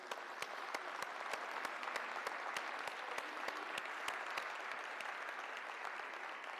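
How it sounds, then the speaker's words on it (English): Audience at a basketball coaching clinic applauding, a steady full round of clapping from a crowd with sharp individual claps standing out, no talk over it. "let's give them a super big hand."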